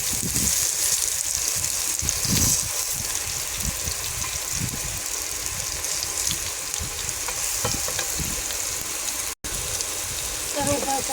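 Bottle gourd slices fry in oil in a pan with a close, continuous sizzle and occasional soft clatter, cutting out for an instant near the end.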